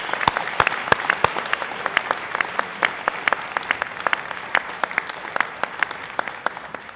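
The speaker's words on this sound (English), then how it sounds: "Let's give them a big round of applause." Audience applause at a graduation ceremony, with sustained, dense clapping from a large crowd and individual sharp claps standing out, steady throughout with no talking.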